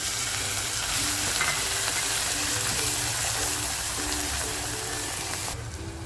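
Loud, steady sizzling of a thick ground spice paste frying in hot oil with garlic, a continuous crackling hiss that eases slightly near the end.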